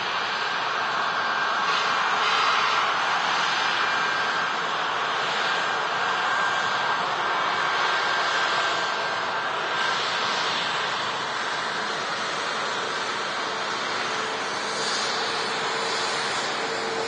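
Passenger jets approaching to land at Manchester Airport in the evening, a steady distant engine roar with a broad rushing wash that swells slightly and never fully fades, with no voices.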